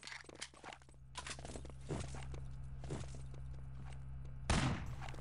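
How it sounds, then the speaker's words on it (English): Gunfire in the team shooter Enemy Territory during a 6on6 LAN tournament match, with several sharp rifle shots and bursts at varying distances over a low game hum, the loudest crack near the end. "Rifle shot comes out. Isn't going to be able to connect."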